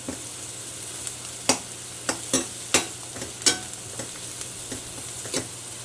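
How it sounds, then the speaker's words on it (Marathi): Chopped vegetables and sweet corn roast in a pan on a home stove, giving a soft, continuous sizzle broken by sharp scraping taps of a spoon stirring against the pan, close and without talk. "हे सर्व मिक्स करून घ्यायचे पूर्ण छान भाजी एकजीव करून घ्यायचे भाजून घ्यायचे"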